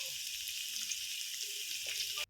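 Ingredients including peas frying in a pan for palak masala chitranna, a steady hissing sizzle that runs evenly throughout, close and moderately loud with no voices.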